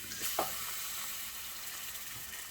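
Tomato sauce hits a pot of roasted flour for a cut-noodle soup and sizzles, opening with a brief splash followed by an even, close crackling hiss.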